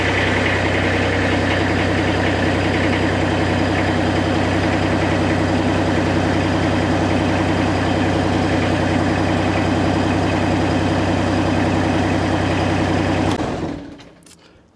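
A Captok V1000 mini skid steer engine runs at a steady idle, a loud constant low throb close by, then cuts off near the end and falls silent.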